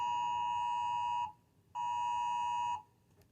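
An iPhone emergency alert tone sounds close and loud as two sustained harsh electronic blasts with a short gap between them, alone with no talking.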